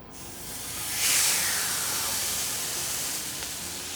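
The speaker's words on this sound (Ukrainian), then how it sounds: "Яловичину також обсмажуємо з обох сторін" Beef sears in a hot pan, a loud, steady close sizzle that swells sharply as the meat hits the oil and then holds as a broad, continuous hiss.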